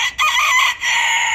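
An Istanbul, or Indian, breed rooster crowing close by, a single short raspy crow that breaks briefly and continues, with no talk.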